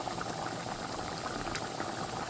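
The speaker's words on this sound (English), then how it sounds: "So my fish is steaming or boiling down now." Fish boiling in a pot for a Sunday dinner, giving a steady bubbling simmer heard close and continuous with no talk over it.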